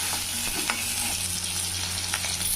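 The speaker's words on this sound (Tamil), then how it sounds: "இப்போ சின்ன வெங்காயம், ஒரு துண்டு இஞ்சி, பூண்டு ஒரு 5 பூண்டு, வெங்காயம் கொஞ்சம் வதங்கிட்டுங்க" Shallots, ginger and garlic sauté in hot oil for a Tamil brinjal curry (ennai kathirikai kulambu), giving a steady close sizzle and crackle with a few light stirring clatters throughout and no talking.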